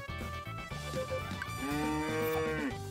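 A grown cow in the farming game Story of Seasons: Friends of Mineral Town lets out a loud, drawn-out moo over light game background sounds.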